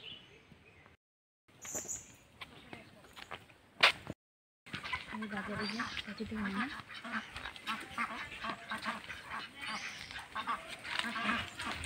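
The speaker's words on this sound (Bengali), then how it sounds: "এই দেখো কতটা হাঁস, এরা হাঁস পালে।" A flock of domestic ducks kept by villagers in an Andaman Islands village quacks in a busy, overlapping chorus after a brief gap, at moderate distance, with people's voices mixed in.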